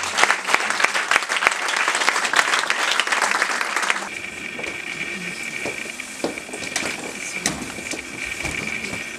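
Church congregation applauding during a dedication service, dense rapid clapping for about four seconds that then thins into scattered claps over a lingering hum and murmur of the hall.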